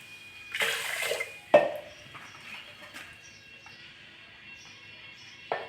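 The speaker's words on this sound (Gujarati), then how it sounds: "પાણી નાખીએ" A short splash of water pouring into a pressure cooker of washed moth beans, followed by a few faint clinks and drips, close by and quiet.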